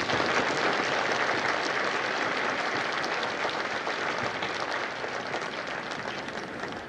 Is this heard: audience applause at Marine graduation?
yes